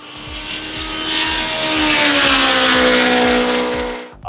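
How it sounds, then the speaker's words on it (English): A modified wide-body car with a custom exhaust built from leftover parts roars loudly up close, its engine note climbing steadily and holding a rising drone for several seconds before cutting off. "We have a very custom exhaust made from leftovers, and it's legitimately leftovers."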